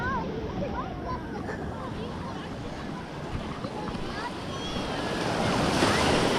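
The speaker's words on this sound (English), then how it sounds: "but the waves are terrible." Rough bay waves slosh and churn close by, mixed with strong wind buffeting the microphone in a steady roar that grows a little louder toward the end.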